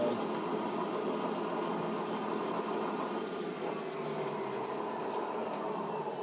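Bridgeport Romi EZ Path-S 17-inch by 40-inch lathe spinning at 1,000 RPM at the top of its low range, giving a steady, loud mechanical whir with a faint high whine, continuous and even throughout without talk.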